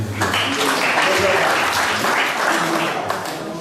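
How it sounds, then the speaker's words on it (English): Audience applause at a community anti-drug abuse and cultism event in a Nigerian town, a steady broad wash of clapping lasting several seconds, with voices mixed in beneath. "Please a round of applause for me."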